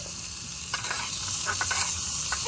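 Chopped carrots sizzle and crackle steadily in a hot miniature-kitchen pan, with a few soft scraping stirs, close up and no talking.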